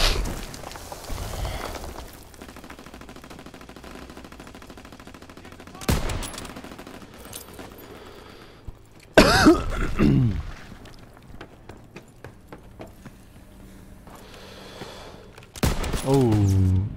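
Submachine gun fire in the Call of Duty: WWII video game during a team deathmatch, several loud rapid bursts separated by quieter stretches of distant shots and game noise, with voices talking at times.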